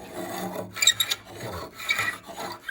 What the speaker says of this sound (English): taking off this layer of varnish, give it a good sanding again